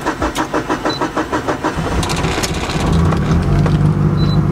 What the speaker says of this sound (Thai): หัวฉีดมันใหญ่ครับมันสตาร์ทติดยากนิดนึง